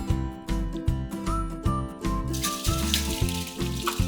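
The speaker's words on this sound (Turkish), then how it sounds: "Bu arada da patateslerimi süzelim." Water from boiled potatoes pours and splashes steadily into a sink as they are drained, with a rhythmic, close sloshing and faint rattling throughout.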